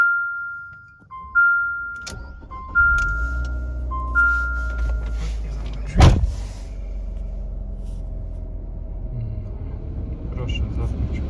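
A 2016 Fiat 500 with a 1.4 four-cylinder, 101 hp and automatic gearbox: repeated dashboard chimes sound inside, then a sharp starter catch and the engine settling into a low, steady idle rumble.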